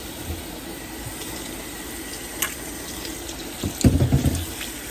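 Running tap water splashes over hands at a sink outdoors, a steady faint hiss with a louder burst of splashing near the end as the hands move under the stream.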